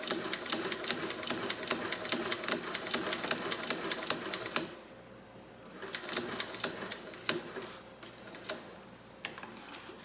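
Florence White rotary sewing machine stitching a test piece, a fast steady mechanical ticking chatter that runs continuously, stops abruptly, then returns in shorter uneven bursts, close and fairly quiet.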